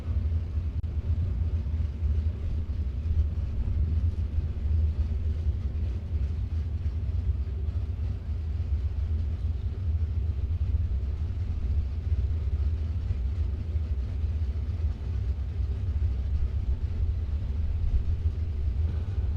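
Drag racing cars at Gainesville, with a pair of red cars including a 428 New Gen Mustang, give off a steady, heavy low engine rumble that holds loud and unbroken for about twenty seconds, with no voices.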